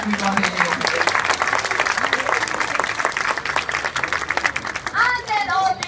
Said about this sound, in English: Let's give him a massive round of applause, everybody.